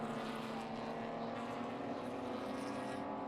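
Race car engine heard onboard during a NASA club race, a loud constant droning roar held at high revs without pause, close and filling the cabin.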